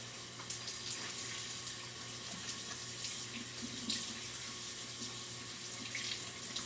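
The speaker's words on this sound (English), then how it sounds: "Getting the water really running clear before I decide to move on to the next shirt" Tap water runs steadily from a faucet into a sink while a tie-dye shirt is rinsed and wrung out, a continuous close splashing hiss with small sloshing bursts and no talk.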